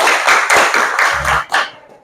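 Children clapping their hands along to a song in a classroom, a handful of loud, close, rhythmic claps spaced about a quarter second apart, with a faint low thump among them.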